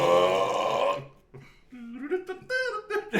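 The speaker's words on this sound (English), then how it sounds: "Oh, now I got a burp." A long, loud, close burp rumbles for about a second, followed by someone talking.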